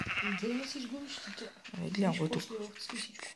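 Sheep bleating in the Minecraft video game, short game-animal bleats heard up close beneath two people chatting in Bulgarian.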